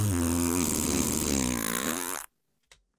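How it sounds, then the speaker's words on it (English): A long, loud, flapping fart noise rumbles and buzzes for about two seconds before cutting off abruptly, followed by a brief faint click in silence. "It looks like he got a thing for fart sounds."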